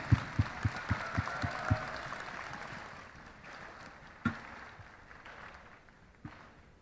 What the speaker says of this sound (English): A huge round of applause for yourself for being here for 5 days